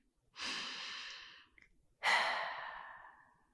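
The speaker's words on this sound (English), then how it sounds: "you can take a deep breath right now with me" Two slow, deep breaths taken close and alone in a quiet room during a guided meditation: a long breathy inhale followed after a brief pause by a fuller, stronger exhale that fades out gradually.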